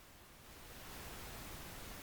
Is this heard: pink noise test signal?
yes